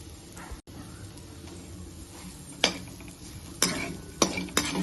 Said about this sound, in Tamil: நல்லா இதை ஒரு டூ டு த்ரீ மினிட்ஸ் இந்த மாதிரி கிளறி விடணும்